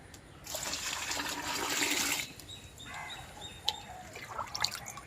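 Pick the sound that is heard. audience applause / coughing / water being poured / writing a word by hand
water being poured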